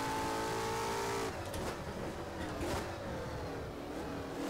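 Race car engine in the rFactor sim held at full throttle, a loud sustained whine that drops as the car shifts, then climbs again in a continuous near drone.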